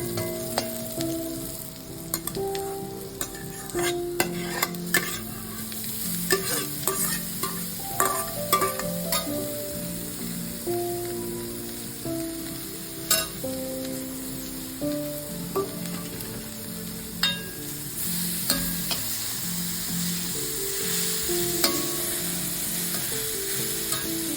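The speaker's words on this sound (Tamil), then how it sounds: "ஒரு 3 நிமிஷம் வெங்காயம் வதங்கினா போதும்." Onions sautéing in a pan for jackfruit poriyal, with a steady soft sizzle and repeated scraping clicks of a spatula stirring throughout, with no talking.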